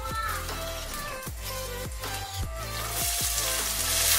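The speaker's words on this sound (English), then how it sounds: "So I'm gonna add my onion" Onion sizzles in a saucepan for chicken basquaise, a steady frying hiss with a few clinks and scrapes that grows slightly louder toward the end.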